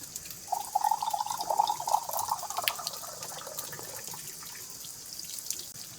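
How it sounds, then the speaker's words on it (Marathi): Water trickling from a rock seep into a bottle on a hillside trail at Prabalgad fort, Maharashtra, a steady gurgling fill for a few seconds that fades into soft outdoor ambience, no talk. "दगडातून येणाऱ्या पाण्याच्या धारेत बाटली भरून घेतली"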